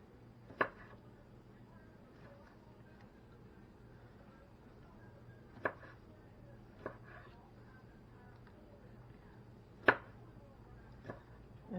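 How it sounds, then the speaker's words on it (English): A knife cuts through large cherry tomatoes on a board. About five sharp, isolated cuts come several seconds apart, close and fairly quiet over a low room hum. "I'm just cutting up these little cherry tomatoes that are not so little"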